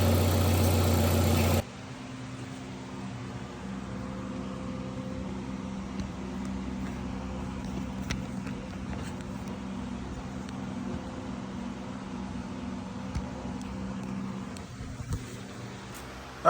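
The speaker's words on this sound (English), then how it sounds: "let me go ahead and take it for a drive and see how it goes" After a brief loud burst, a car engine repaired with a new CV axle and timing chain tensioner idles in a low, steady hum inside a garage, faint and continuous, with occasional small knocks.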